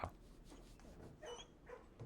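Dogs in a kennel in the video game Blue Prince give soft whimpers and yips at moderate volume, spread over a faint background.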